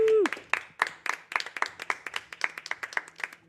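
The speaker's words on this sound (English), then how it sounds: "Give him a round of applause, everybody." Applause welcoming a first-time guest on an arcade game show: after a brief tone, a small group claps in quick, distinct, uneven strikes that stay close and clear for a few seconds.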